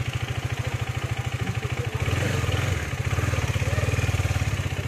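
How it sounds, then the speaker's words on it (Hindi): A KTM Duke 250 BS6 motorcycle engine running close by, a steady rapid low thumping idle that briefly rises in a small rev before settling back to an even beat. "अभी मैं ड्यूक 250 को चलाने वाला हूँ"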